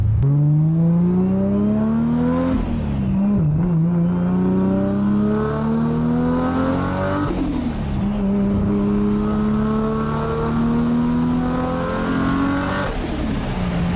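A 1500hp Toyota Supra with a boosted 2JZ inline-six pulls hard through the gears from inside the car, its loud engine note climbing steadily in pitch, dropping at each of two shifts, then rising again.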